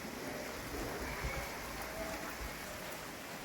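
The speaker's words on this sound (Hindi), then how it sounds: "अभी बारिश हो रही है और सच में बड़ा अच्छा मौसम हो रहा है" Rain falls steadily in a village setting, a soft continuous hiss and patter that stays even and moderately close throughout, with no voices over it.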